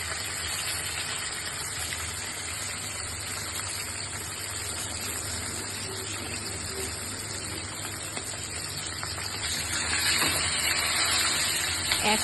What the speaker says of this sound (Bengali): এরপর কড়াইয়ে গরম তেল আর ধীরে ধীরে মাছগুলো ছেড়ে দেওয়া হলো।